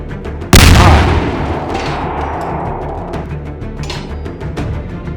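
Gunfire in the video game People Playground: one loud, sharp shot booms and rings out, followed by a sustained rumbling tail and a few fainter pops and clatters.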